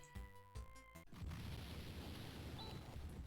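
An entire mountain blows up in the retro game Phantasy Star 4, a heavy rumbling boom bursting in after short chiptune notes and roaring on for several seconds.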